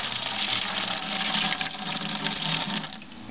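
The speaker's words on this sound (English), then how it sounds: "All I gotta do is turn the spigot on here." Water gushes steadily from an outdoor spigot fed by a solar-powered 110 volt well pump, a continuous close-up hiss and splash that eases slightly near the end.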